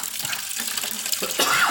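Water gushes and splashes out of a flooded Toyota Prius battery compartment, a steady close-up pouring with a heavier surge near the end.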